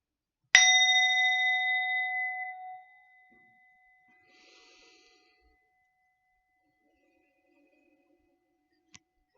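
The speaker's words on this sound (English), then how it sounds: "I will ring the bowl." A single bowl is struck once, ringing out with a clear, shimmering tone that slowly fades into silence; a faint soft rustle follows.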